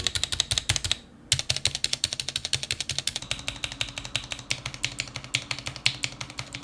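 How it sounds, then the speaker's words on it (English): Rapid, steady typing on an RGB mechanical keyboard, checking the stabilizers for rattle: dense, close clacking keystrokes with a brief pause near the start, then continuing evenly, with no voices. "you can put them back on the keyboard and see if there's any rattle left"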